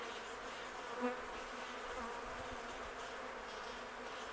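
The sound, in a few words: honeybees buzzing in a hive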